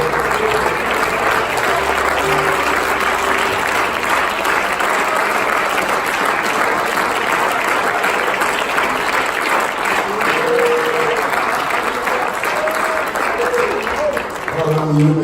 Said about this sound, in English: Let's everybody clap our hands unto the Lord.